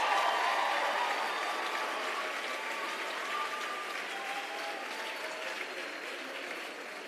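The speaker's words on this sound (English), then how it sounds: "One more round of applause for our graduating students." Audience applause for graduating students at a graduation ceremony, sustained dense clapping from a large crowd that stays loud and slowly fades, with no talk over it.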